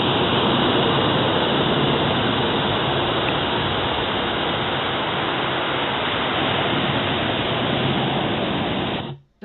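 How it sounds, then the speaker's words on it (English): Ocean waves wash onto an open, flat beach on Havelock Island in the Andaman Islands, a steady, loud roar of surf that continues unbroken and then cuts off abruptly at the end. "Just love the sound of waves, and it's a very open and flat beach."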